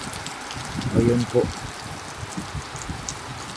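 Steady rain falls outside a house on a wet afternoon, a soft continuous hiss of drops with people talking over it in the foreground.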